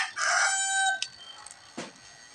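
Close rooster crowing among chickens: a strong harmonic crow, followed by shorter clucks and squawks against a faint background.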